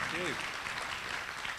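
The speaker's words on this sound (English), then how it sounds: "A big round of applause for Rob Harding." Applause from a conference audience at Agile in Africa 2015 after a presentation, a dense wash of clapping with a voice speaking briefly at the start.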